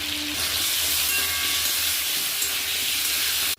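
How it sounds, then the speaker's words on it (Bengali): Potato pieces fry in hot oil with salt and turmeric, making a loud, continuous close-up sizzle and hiss with a faint tone early on, until it stops abruptly near the end. "একটা বড় সাইজের আলু কেটে টুকরো করে রেখেছি, আমি সেটা এবার ভেজে নেব।"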